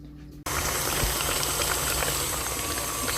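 An electric mixer beats cream as it turns into butter, a steady, dense whirring and churning that carries on without a break after a near-silent start.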